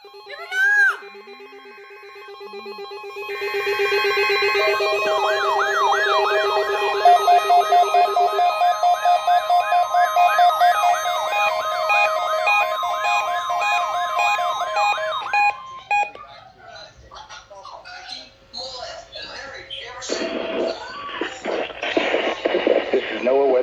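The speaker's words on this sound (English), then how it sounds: "The preceding signal was a test of the public warning and alarm transmitters in the Florida listening area, originating from Ruskin, Florida" NOAA Weather Radio weekly test from Ruskin, Florida: a loud emergency alert burst of warbling data tones and a long steady alarm tone, followed by an announcer's voice speaking over the broadcast.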